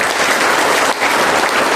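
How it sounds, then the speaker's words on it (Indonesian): A talk-show audience claps loudly and densely, a continuous wash of applause filling the whole moment, close and full, with only a brief dip partway through. "mari kita tepuk tangan untuk Ibu Yenes"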